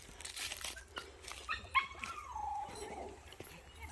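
Dogs at a kennel bark, yip and whimper in short overlapping bursts, some close and some farther off, with a brief rising whine partway through and faint voices in the background.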